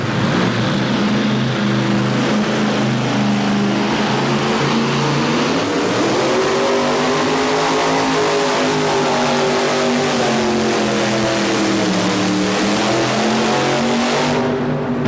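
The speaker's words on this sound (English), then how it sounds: "first up is Chuck Chitwood in his beautiful 55 Ford Fast Forward" A 1955 Ford race car roars down the track at a drag race, a loud, sustained engine drone with shifting pitch that holds throughout before cutting off sharply near the end.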